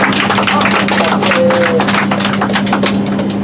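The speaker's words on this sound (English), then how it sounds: "So big round of applause for Oscar." Passengers aboard a tourist submarine applaud pilot Oscar, a quick patter of scattered clapping over a steady low mechanical hum inside the cabin.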